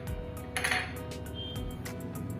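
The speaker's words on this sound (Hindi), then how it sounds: "अब इसमें अपने डालेंगे ये काली मिर्च के दाने" Whole black peppercorns dropped into a bowl of ground lentil batter for dal vada, giving a few soft clinks and taps against the bowl over a steady low kitchen hum.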